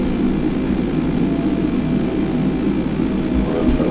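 An Airbus A320neo's engines in Microsoft Flight Simulator 2020 hold a steady, loud low roar with a faint high whine above it. The sound stays constant throughout, with no voices.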